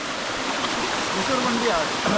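Hivale waterfall pours in a loud, steady roar of rushing water that fills the whole moment, with a voice talking over it.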